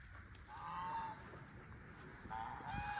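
Geese honk on a farm where a goose and duck family keep together, two short nasal bursts close by, the first longer, over a low rustling background with no talking.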